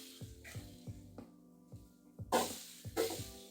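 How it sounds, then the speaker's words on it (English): Onions go into a pan with browned sausages and get stirred, giving a faint sizzle and a couple of louder scraping stirs over soft background music, with no speech. "Let's get those onions in, shall we? Give them a little bit of a stir."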